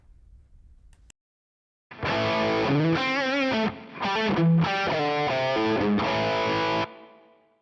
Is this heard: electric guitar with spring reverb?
yes